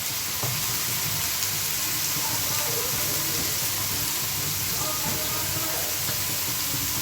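Potatoes fry in a hot pan for a beef bhutwa dish, giving a steady, close, loud sizzling hiss that runs unbroken throughout with no pauses.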